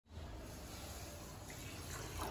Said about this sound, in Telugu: కొద్దిగా వాటర్ కూడా పోసుకుందాము.